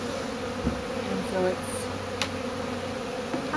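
A swarm of bees buzzes loudly and steadily close by, a dense droning hum under a brief spoken remark, with a few sharp knocks.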